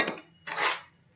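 Flour being stirred into melted sugar for Mysore pak, heard as a few short scraping strokes of a utensil against a metal pan, close and fairly loud, with a sharp knock at the end.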